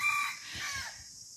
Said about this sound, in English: Oh, and the roosters were crowing.